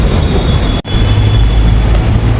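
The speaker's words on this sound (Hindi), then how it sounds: "तो मैं मेट्रो स्टेशन पहुँच गई हूँ।" A metro train rumbles through a busy station on a weekday morning around seven, its steady, loud low roar and wheel noise filling the platform, broken by one brief dropout before continuing.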